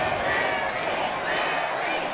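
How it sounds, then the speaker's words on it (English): Wrestling crowd at a Capital City Wrestling match cheering and chanting for 70s sensation Larry Horowitz, a steady, dense roar of many voices filling the arena without a break. "You cannot stop this crowd from cheering for the 70s sensation Larry"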